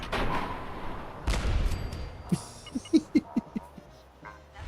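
Gunfire in Fallout 4 during a headshot: a heavy broadband blast near the start, then a quick series of five or six short, punchy thuds in a ragged rhythm, fairly close and loud, with faint ambient noise between.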